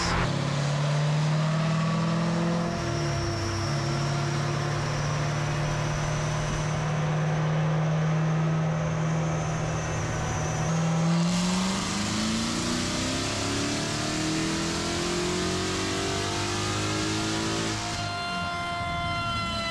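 A Chevrolet Corvette C8 Z06 on a dyno holds a steady droning engine note, then climbs in a long rising rev before dropping away, loud and continuous with no talking.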